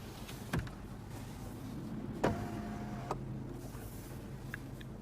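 A 2015 Lexus LS 460 power moonroof runs its motor in a soft, steady hum during a one-touch open, with a couple of faint clicks and a brief mechanical clunk inside the quiet cabin.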